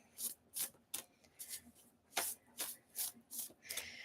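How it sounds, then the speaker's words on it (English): An oracle card deck shuffled by hand in repeated dry riffling bursts, about a dozen quick rasps in an even rhythm, close and fairly soft with no talk. "We'll just give this another shuffle or two."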